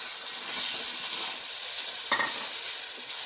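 Tomatoes and green chillies added to masala frying in a pan, giving a steady loud sizzle with a brief burst of crackle as they hit the hot oil, close up.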